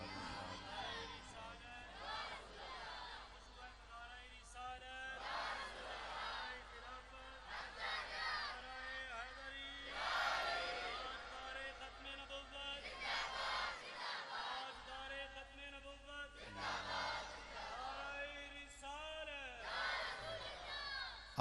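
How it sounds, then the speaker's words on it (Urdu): A large crowd chants religious slogans in loud, rhythmic call-and-response bursts that swell and fade over and over, with shouting voices dominating throughout. "آپ لبیک کے یہاں نعرے لگاتے ہیں"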